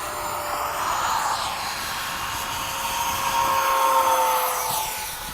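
A Freewing 90mm F/A-18C Blue Angels model jet takes off with a loud, sustained high ducted-fan whine that swells and shifts in pitch as it accelerates, then eases slightly at the end.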